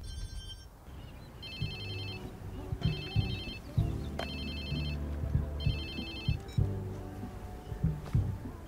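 A mobile phone rings in the Watch Dogs 2 video game, repeating electronic ringtone bursts at a steady rhythm over a low rumbling game background.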